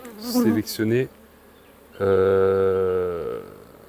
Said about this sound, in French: les deux hausses sont pleines d'abeilles